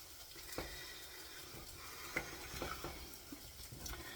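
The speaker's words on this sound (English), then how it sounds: "this is one you have to stir a lot. So I've got my wooden spoon" Food being stirred in a pot with a wooden spoon, faint soft scraping and gentle sizzling with irregular dull knocks of the spoon, quiet and close with no talking.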